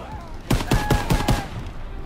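A short burst of five rapid gunshots rings out in a Call of Duty WWII D-Day Normandy battle, close and loud, with a faint voice underneath.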